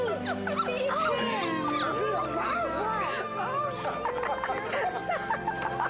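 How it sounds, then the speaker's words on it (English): A puppy given as a Christmas gift in the 1997 TV film Ms. Scrooge yips, whimpers and yelps close by in quick bursts, mixed with people talking and laughing. "Whoa, a puppy!"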